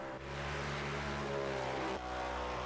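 A Polaris UTV engine revs hard on a dirt race track, a loud sustained buzzing drone that holds steady and then drops briefly as the throttle shifts, with no talk over it.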